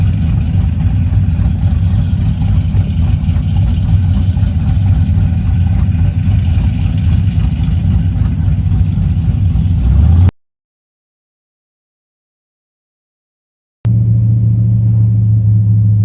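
A truck engine runs steadily while driving, a loud low rumble with a mid-range drone that holds for about ten seconds, cuts to silence, then returns.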